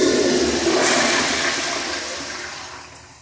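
A modern toilet in a renovated school men's restroom flushes with a loud rushing swirl of water that slowly fades as the bowl refills, with no talking.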